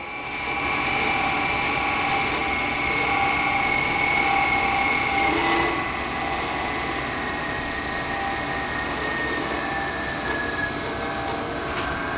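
A steady rasping, rubbing scrape of a lathe tool against spinning wood during spindle turning at about 1,800 rpm, constant and close over a motor's hum, easing slightly midway.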